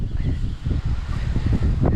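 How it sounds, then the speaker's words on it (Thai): Strong wind buffets the microphone at a winter bass-fishing spot in Korea, a steady, loud, roaring rumble with gusty swells throughout and no voices. "ลมแรงมาก"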